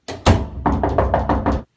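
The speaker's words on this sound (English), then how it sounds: "Can you knock next time?" Seven sharp knocks on a bathroom door: two heavy, well-spaced raps, then a quicker run of five even knocks, close and loud, with no talking.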